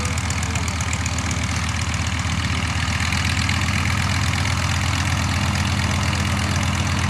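A Fleet 16B biplane engine runs steadily at idle, a close, continuous low throbbing drone with a fine rapid pulse and no change in pace, with no voices over it.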